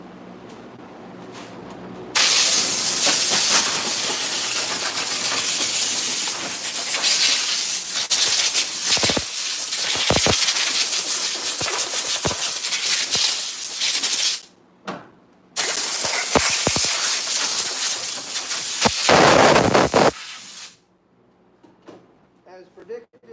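A belt grinder fitted with a worn 36 grit belt grinds a knife, a loud, harsh broadband rasp running for long stretches with a short pause midway, then stopping; a voice talks faintly before and after.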